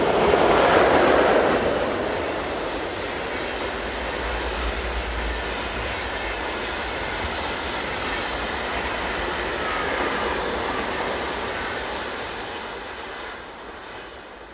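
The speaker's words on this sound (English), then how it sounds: "11152 heads towards the camera with City Nightline train 1258, the 2211 departure from Berlin to Zurich" City Nightline train 1258 from Berlin to Zurich, hauled by Swiss locomotive 11152, approaches at Effingen with a steady rumble and rolling wheel noise that swells and lingers, loud and close, without voices.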